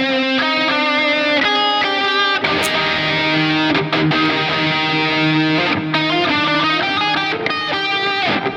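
An electric guitar through BIAS FX 2 amp software plays sustained, slightly distorted lead notes with delay repeats and a wash of reverb trailing behind each phrase, loud and close.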